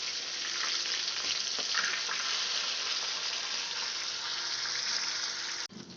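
Catla fish pieces fry in hot oil with a dense, steady sizzle that stays loud and close throughout, then cuts off abruptly near the end.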